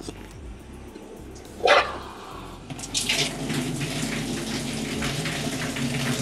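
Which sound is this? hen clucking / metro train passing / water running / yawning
water running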